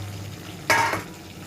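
Pieces of fish are dropped into a pot of simmering Bengali fish curry, giving one short, close sizzling splash lasting about a quarter second against a quiet kitchen background.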